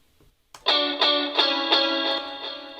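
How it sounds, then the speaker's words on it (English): Distorted electric guitars strike a chord and ring out, then hit it again in a steady rhythm, loud and sustained, with nothing else playing. "So the guitars do kind of what the piano does."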